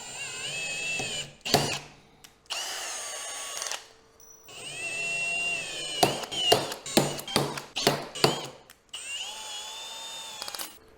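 A rivet tool setting rivets into an old golf cart body, heard as sharp pneumatic bursts and a fast series of loud metallic snaps close by, separated by brief quiet gaps, with no talking.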